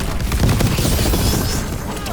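Dense, continuous gunfire and booms in the video game Dragon Age: The Veilguard, a loud steady barrage with no pauses.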